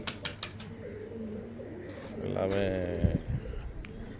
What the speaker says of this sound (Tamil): தரமான புறாக்கள் தான், எந்த குறையும் இல்லை.